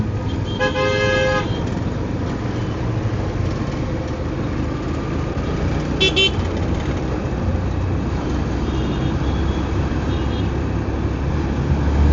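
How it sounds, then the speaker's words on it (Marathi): Car horns honk twice amid steady Wagholi street traffic, first a longer blast and later a short one, over a constant roar of engines and road noise. "साहेब आम्ही जाणार आहे पुढे, नका हॉर्न वाजून."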